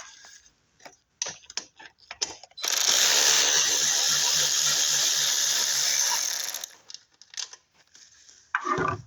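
Bolts are removed from a Chevrolet Equinox with a power tool that whirs continuously for about four seconds, framed by scattered clicks and clanks of parts being handled close by.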